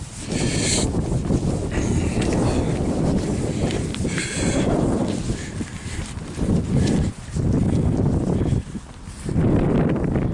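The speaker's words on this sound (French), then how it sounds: "je rentre dans le vent" Strong wind buffets the microphone in continuous rumbling gusts, loud and rough, with brief dips between blasts.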